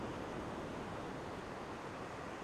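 Ocean surf at a beachfront condo complex in Redondo Beach makes a steady, broad roar of waves that stays even and fairly faint throughout, with no voices.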